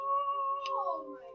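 A cat meows once, a clear drawn-out call with a falling tone, close by and alone, with no talk over it.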